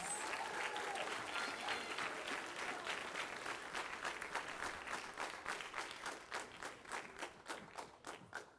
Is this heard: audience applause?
yes